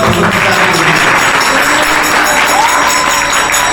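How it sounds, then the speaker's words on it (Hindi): A dense crowd at a Gita Jayanti celebration in Karachi gives loud, continuous applause, a steady wash of clapping with faint crowd voices underneath. "तो जोरदार तालियां"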